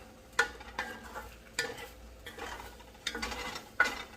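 Scrambled egg curds are flipped in a pan with soft, irregular scraping and tapping strokes of a utensil against the metal, heard close and fairly quiet over a faint background hiss.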